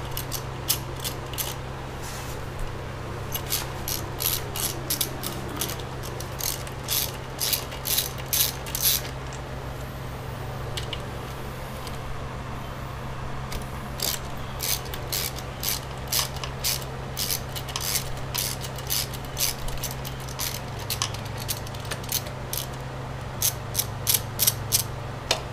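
A hand ratchet loosens exhaust bolts on a 2016 Kawasaki ZX-10R KRT motorcycle, clicking in fast repeated bursts with short pauses between them, close and clear over a low background hum.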